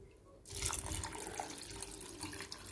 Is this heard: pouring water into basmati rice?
yes